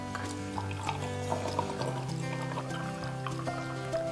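Liquid is poured steadily into a container, a soft continuous trickle heard up close at low volume.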